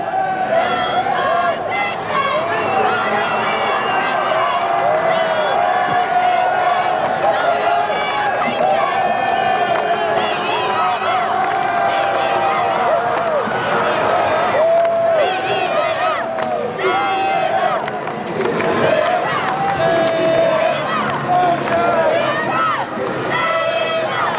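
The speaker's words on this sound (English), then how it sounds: "All their fans behind them cheering them on." Basketball fans at a 1984 Minnesota state high school girls' semifinal, Little Falls Flyers game, fill an arena with continuous loud crowd cheering and chanting, with voices mixed through the roar.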